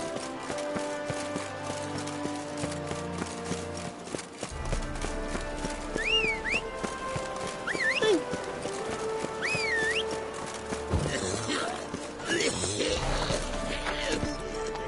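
Roach the horse gallops in The Witcher 3, hooves pounding steadily beneath a busy game soundscape with music and ambient noise, and a brief whinny-like cry rises partway through.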